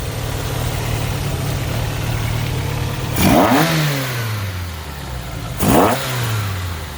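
Volkswagen Mk2 GTI engine fitted with motorcycle carburetors idling with a steady low rumble, then blipped twice in sharp revs that rise and fall quickly, loud and close with no talk.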